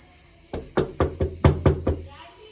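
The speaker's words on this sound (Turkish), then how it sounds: "Şimdi kapıyı bir çalalım." Seven firm knocks on the large front door of a new villa, sharp and close in an irregular rhythm spread over about two seconds.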